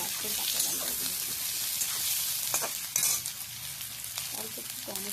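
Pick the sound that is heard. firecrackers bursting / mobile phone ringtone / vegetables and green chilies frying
vegetables and green chilies frying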